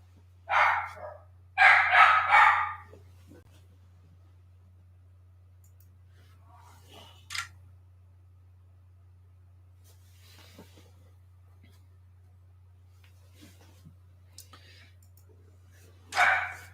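Indoors a dog gives a couple of close barks at the start, then scattered faint sounds and one more bark at the end, over a steady low hum.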